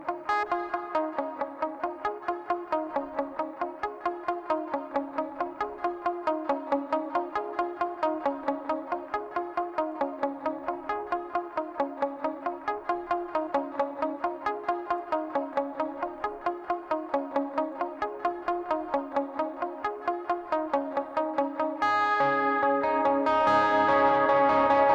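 Lead guitar riff played through echo and chorus-style effects, a steady stream of rapid picked notes in a repeating pattern, bright and sustained, swelling into a fuller ringing chord near the end.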